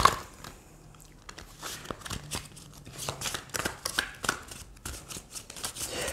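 Oracle cards being shuffled by hand, a run of quick riffling and slapping card sounds close to the microphone, steady and continuous with no talk.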